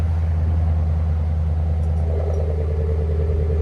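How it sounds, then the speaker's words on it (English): Lexus RC F 5.0-liter V8 idles with its Valvetronic exhaust valves open, a steady deep rumbling burble heard up close with no other sounds. "This is idle and open."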